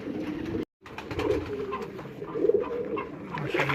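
Pigeons coo in low, rounded bursts, close and fairly loud, continuing nearly throughout with a brief silent gap early on.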